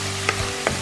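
Ginger, garlic and green chilli fry in a pan with a steady sizzle and two quick stirring scrapes, close by.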